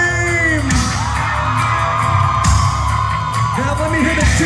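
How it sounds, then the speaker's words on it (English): A loud crowd of women screams at a metal concert in Dallas, a sustained roar of high shrieks and whoops filling the hall, with a shouting voice and sharp bangs mixed in. "I want to hear all the girls in here scream."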